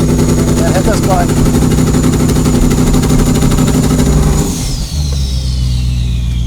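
A heavily modified Ford F150 truck engine runs hard at full throttle with a loud, buzzing, pulsing drone that holds steady before dropping off sharply near the end, as a voice talks over it.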